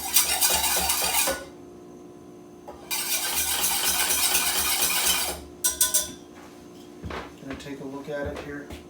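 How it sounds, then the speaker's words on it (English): A spoon stirs and scrapes a thickening potato-starch mixture in a pot in a home kitchen, in loud bursts of rasping clatter separated by short pauses, with a voice talking briefly in between. "Keep stirring."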